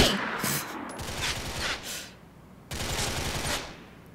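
Rapid bursts of automatic gunfire in Grand Theft Auto IV, two sustained volleys of fast, evenly spaced shots separated by a quieter gap, fairly close and loud.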